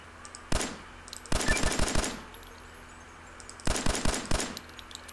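Rapid bursts of automatic gunfire from a Fallout 4 weapon mod used in Fallout New Vegas, three separate volleys of quick rhythmic shots with short pauses between them, loud and close with no talk.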